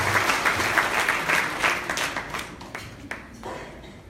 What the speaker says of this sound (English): Let's give Dr. Bryan a round of applause.